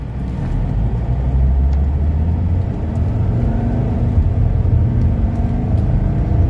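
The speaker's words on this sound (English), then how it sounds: "Yeah, super healthy engine" A Mercedes 300CD engine on a test drive gives a steady low rumble and whir from inside the car as it cruises along, with mild swells in engine note and no talk.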